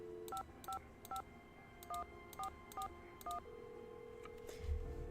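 Touch-tone telephone keypad in a Nancy Drew video game dialing a number, eight crisp, close dual-tone beeps in an uneven sequence, followed by a faint electronic pause and a low thump.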